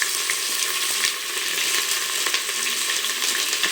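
Sliced large onions frying in hot oil with whole spices for biryani, a constant crackling sizzle close up with occasional faint clinks of a stirring spoon.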